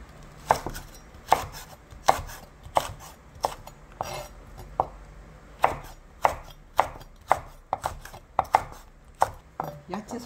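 A knife chops vegetables such as Cheongyang chili peppers for dried pollack soup, striking the cutting board in steady, sharp knocks roughly every half second. The sound is close and clear, with no talking.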